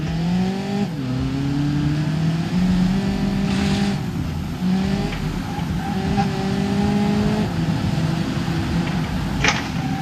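A 2022 Skoda Octavia in the BeamNG driving game revs its engine loudly and continuously, the pitch climbing and dropping through repeated gear changes on a snowy road, with no talking.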